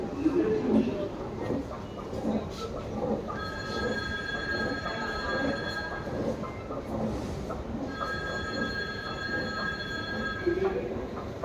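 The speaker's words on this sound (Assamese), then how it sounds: "আমি যোৱা ট্ৰেইনখন আহিব সেইটো চাইডে, প্লেটফৰ্ম সিফালে।" Delhi Metro train at an underground station platform, a steady rumbling roar with rising electric motor whines and squealing wheels as it moves through, loud and continuous with faint voices underneath.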